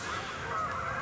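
A large flock of geese honks continuously on a river, a dense, steady clamor of overlapping calls heard from a distance with no pauses.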